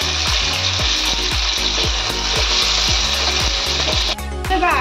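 Root vegetables deep-frying in hot oil, a loud continuous sizzle and crackle close up with a rapid bubbling pulse running underneath, briefly dipping near the end before surging again.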